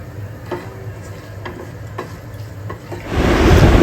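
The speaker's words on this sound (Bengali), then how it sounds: "এবার তরকাটা ফোড়ন দেবো জিরে শুকনো লঙ্কা দিয়ে ফোড়ন দেবো একটু রসুন কুচু দিয়ে" Cumin, dried red chillies and chopped garlic tempered in hot oil for a Bengali dal tadka, with a low steady sizzle and occasional stirring clicks that swell into a loud, fierce frying hiss near the end.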